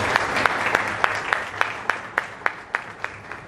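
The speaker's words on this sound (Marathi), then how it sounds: "मला वाटतं मॅडमसाठी जोरदार एकदा टाळ्या करायच्या" An audience applauds at a book launch ceremony, a steady run of sharp, evenly spaced claps that stay fairly close and moderately loud throughout.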